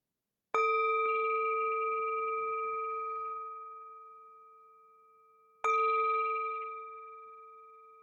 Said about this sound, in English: we will begin and end with the sound of the bell